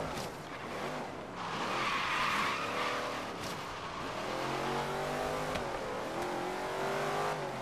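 A car in Forza Horizon 3's Hot Wheels expansion brakes hard with a long squealing tire skid, engine revving and shifting pitch underneath, close and loud throughout with no talking.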